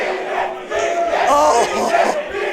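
Large live crowd at a Super Smash Bros. Ultimate tournament at a student union roars and cheers continuously, loud and sustained with shouting voices swelling through the middle.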